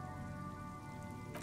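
Steady rain pours over an industrial harbor of metal shipping containers and supply crates in the video game Disco Elysium, a dense, continuous patter with faint rumbling underneath and no voices.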